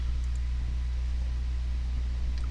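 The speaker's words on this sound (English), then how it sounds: "I don't care if you hear the fan in the background" Steady low hum and broadband whoosh of an electric fan running in the background of a hot room, constant and even throughout with no other sounds.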